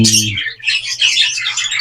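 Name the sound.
society finches chirping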